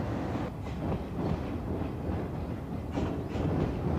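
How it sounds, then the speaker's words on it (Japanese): A passing train rumbles along the Kagoshima Main Line tracks beside a factory near Kawashiri Station in Kumamoto, a steady, loud low-frequency roar with faint rhythmic clatter running throughout, no voices. "マスク作業中に通過する列車の振動が重ね合わせる図形の位置を狂わせていたのである。"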